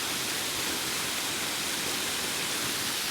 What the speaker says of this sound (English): This is a big waterfall in Issue Clough. And unlike last time, there's plenty of water coming over it.